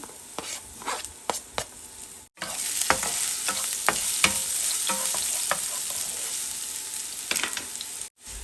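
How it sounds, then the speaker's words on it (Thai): Chopped garlic sizzles loudly in a hot pan for a yakisoba stir-fry, a steady close hiss broken by scraping stirs and brief clatters, with a short pause partway through. "ผัดกระเทียมก่อนนะคะ ให้หอม"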